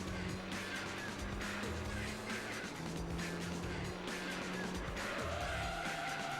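Race car drifting in Gran Turismo 3, with a sustained engine whine and repeated tire squeals and skids as it slides through corners, loud and continuous without any voices.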